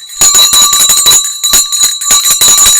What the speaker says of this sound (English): Favorite part of the stream, I think, for a lot of people is that bell.